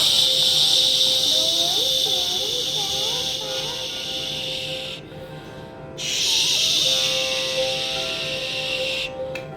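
Okra is poured into a hot pan in a small children's kitchen and sizzles with a loud, steady hiss that dips briefly partway through, while voices talk over it.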